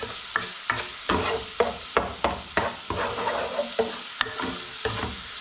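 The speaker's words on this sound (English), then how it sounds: "garlic and the chilli first of all, get that started off. Just give that a quick bit of a stir, get that mixed up." Garlic and chilli frying in a pan, stirred in quick repeated scrapes that click and tap every half second or so over a steady close sizzle, with no voices.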